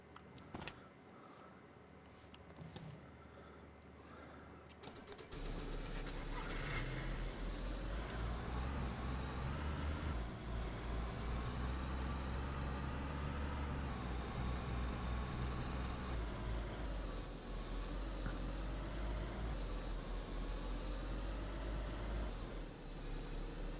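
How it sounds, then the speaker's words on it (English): A car engine in the video game DayZ starts up after a few quiet seconds, then idles with a steady, loud, low drone that continues alone to the end. "Ah, it's this car making the noise."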